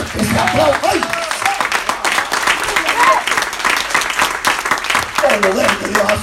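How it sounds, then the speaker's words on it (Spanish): A church congregation applauds during a sermon with steady, dense clapping throughout, while a voice calls out over it. "se aplaude"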